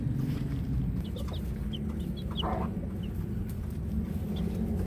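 Hens cluck softly and intermittently over a steady low rumble of background noise, with scattered short calls spread across the scene, as they are fed.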